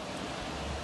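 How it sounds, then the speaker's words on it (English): Water rushing through the Lake Orion Dam outdoors, a steady broad hiss and roar with no pauses, brief and fairly faint. "You can see the water flowing and peeking through"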